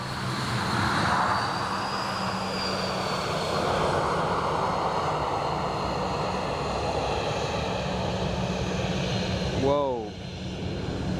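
A fixed-wing airliner approaching and landing at Dublin Airport gives a sustained roar that swells and eases over several seconds, with a person's brief exclamation near the end as the sound drops away.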